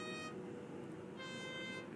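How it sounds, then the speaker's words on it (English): A train horn in a tilting-train video game sounds in two short, tonal, chord-like blasts, the first brief and the second a little longer, faint and thin over a low rumbling game background. "Interesting horn sound."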